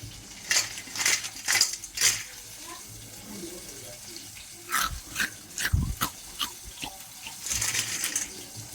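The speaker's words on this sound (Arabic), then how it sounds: "قعد يقرمش لكم كده جنب الموبايل علشان يوروكوا الصوت بتاعها" Crisp, irregular crunching bites close by, in short bursts separated by quiet pauses, over faint background noise.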